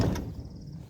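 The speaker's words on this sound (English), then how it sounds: "And I'll close the door" A greenhouse door swings shut with a single sharp knock near the start, followed by a low, steady background rumble and no voices.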